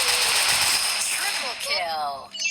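Close, loud bursts of rapid gunfire from the Free Fire video game crackle almost continuously and blend with game sound effects, while a voice talks over them.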